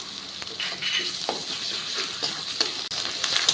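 Ginger goes into hot oil with fried onion, garlic and whole spices, giving a close, continuous sizzle with scattered spoon scrapes and a brief dip near the end, no speech.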